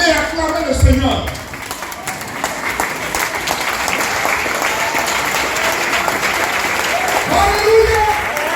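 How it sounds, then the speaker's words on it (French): A church congregation applauds and cheers in praise of the Lord, a loud sustained wash of clapping with voices rising over it. "Levez-vous et acclamez le Seigneur."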